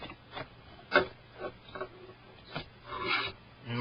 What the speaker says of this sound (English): It's held on by 2 Phillips screws.